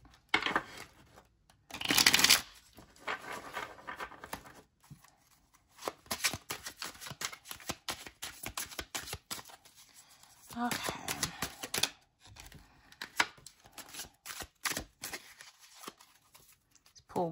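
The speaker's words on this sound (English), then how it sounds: "So I'm gonna shuffle a couple of times and see what cards come out." Laminated tarot cards riffled and shuffled by hand close up, repeated bursts of crisp flapping and clicking with brief pauses between, and a person talking intermittently.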